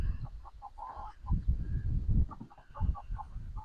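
Meat chickens raised on a homestead cluck in short, repeated bursts at close range, with soft low rustling and handling noise underneath and no speech.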